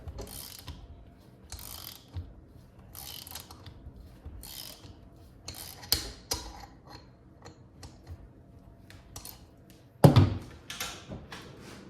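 Pivot head ratchet working on the shaft of a TTR 125 motorcycle, bursts of quick clicking ratchet strokes with pauses between, close up, ending in a louder clunk.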